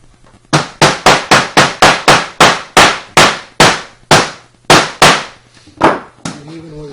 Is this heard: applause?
no